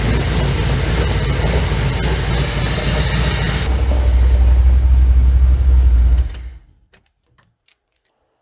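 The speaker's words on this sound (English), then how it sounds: "Still have that hole in the exhaust, or the exhaust leak." A 1984 Dodge Ram D150 pickup truck with an exhaust leak idles with a rough, rumbling exhaust, steady and loud, its low throb deepening midway before the engine cuts off, followed by a few small clicks.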